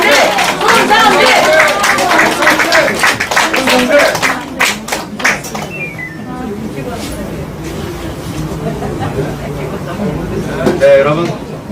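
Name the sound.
crowd applause at a rally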